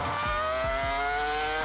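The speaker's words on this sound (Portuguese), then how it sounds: "O som dos motores." Formula 1 cars scream past with high-pitched engine whine, a rising multi-toned wail over several quick low passing rumbles, loud and close.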